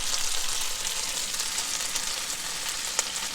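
Potatoes fry on a Blackstone griddle with a steady, dense sizzle that holds close and even throughout, with one brief sharper crackle near the end and no voices.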